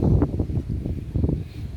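Gusty wind buffets the microphone in low, uneven rumbles, loud and close throughout.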